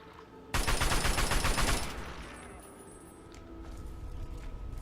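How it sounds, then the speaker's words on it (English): A rapid burst of assault rifle fire in Fallout 3 rattles out loud for over a second and then cuts off, leaving a fading echo and quiet game ambience. "Let's switch to the assault rifle."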